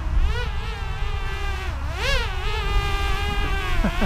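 A Cheerson CX-23 quadcopter drone's high-pitched whine of many stacked tones holds steady close by, rising and falling in pitch as the motors speed up and slow down.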